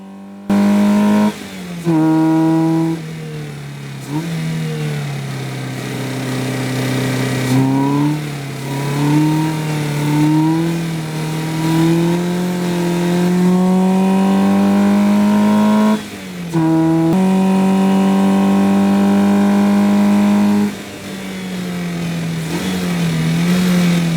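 A Caterham race car's engine revs and pulls hard on a wet track, loud and continuous, rising and falling through gear changes with brief dips between pulls.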